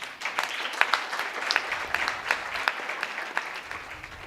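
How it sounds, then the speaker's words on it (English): A lecture audience at a university gives a round of applause for business and management students, a continuous patter of many hands with distinct sharp claps scattered through it at moderate volume. "You deserve a round of applause."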